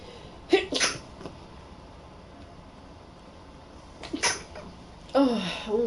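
Two sneezes, one after another, then a third burst about three seconds later. A softer vocal sound follows, like a sneeze or a cat-like cry, and there is faint room noise between them.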